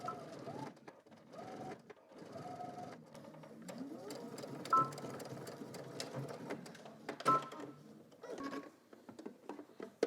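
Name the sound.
sewing machine top stitching across a pocket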